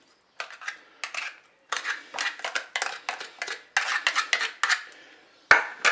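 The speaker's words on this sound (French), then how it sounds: "Je vais mettre les maquereaux dans le saladier." Mackerel fillets go into a salad bowl and get mixed, giving a run of short clinking and scraping strokes of a utensil against the bowl, close and fairly loud in uneven bursts with brief pauses.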